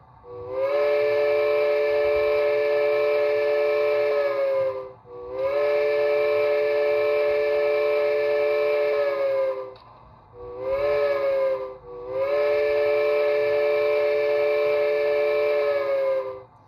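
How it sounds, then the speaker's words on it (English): A synthesized steam whistle from a Bachmann Spectrum HO scale 2-8-0 Consolidation DCC sound module blows in long chord-like blasts: two long toots, a short one, then another long one, loud and clear. "number 2 is the whistle."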